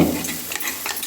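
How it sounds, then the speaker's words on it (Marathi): Masala for Punjabi dhaba-style rajma sautéed in oil over a low flame, giving a soft steady sizzle with scraping stir strokes throughout a short stretch. "आणखीन थोडा वेळ परतून घेऊया. मंद आचेवर मसाल्याला तेल सुटेल."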